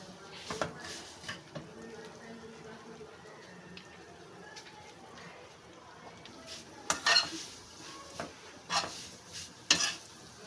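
Vermicelli (seviyan) browns in a pan, with a soft ongoing sizzle under repeated scraping and clinking stirs from a utensil, the strokes bunching together louder near the end.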